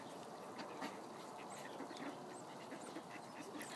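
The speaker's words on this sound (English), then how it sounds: "Ducks, ducks, and more ducks." Several ducks quack intermittently at a moderate distance near the Concord River over a steady outdoor hiss, with short nasal calls scattered throughout.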